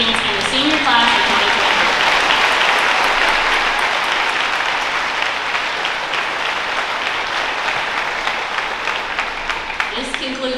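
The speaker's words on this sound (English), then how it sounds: "I would like to give one final round of applause for our scholarship donors, special presenters, honorees, recipients, and the senior class of" Sustained applause fills the hall at an awards ceremony, a dense, even wash of clapping from a large audience that holds steady for about ten seconds.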